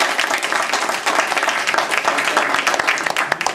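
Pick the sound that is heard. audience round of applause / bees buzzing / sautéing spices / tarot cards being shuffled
audience round of applause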